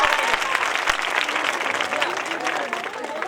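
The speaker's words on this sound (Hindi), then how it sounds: "ताली बजाओ।" An audience claps in dense, continuous applause at a religious Rukmini wedding tableau, with voices mixed in under the clapping throughout.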